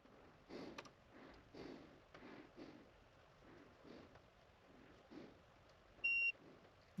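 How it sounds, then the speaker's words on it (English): A short electronic beep near the end, following quiet intermittent ticking and shuffling sounds, during vehicle diagnostic work with a J2534 scan tool. "I heard a beep."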